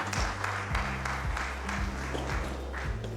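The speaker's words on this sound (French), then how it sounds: "Encore de forts applaudissements." Steady applause from an audience in an auditorium at a project launch ceremony, continuous clapping of many hands throughout, even and sustained.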